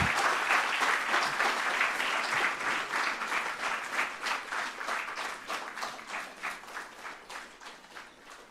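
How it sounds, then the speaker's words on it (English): Sustained applause from an audience at a book release during a World Food Safety Day event, dense clapping that gradually thins and fades over the final seconds. "Please give a round of applause while the book is being released."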